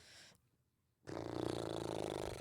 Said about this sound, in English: it was also a burp